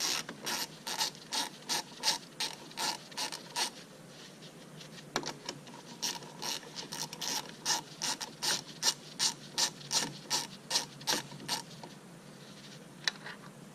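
A hand ratchet backing out a 10 mm airbox bolt on a Mercedes CL600 W215, quick repeated clicking strokes in bursts with brief pauses, close and fairly quiet, with no talking.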